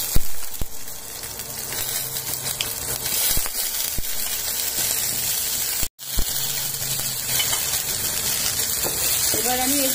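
Boiled potato and cauliflower pieces frying in hot spiced oil with cinnamon tempering, giving a steady, close sizzle and hiss throughout, briefly cut out for a moment midway.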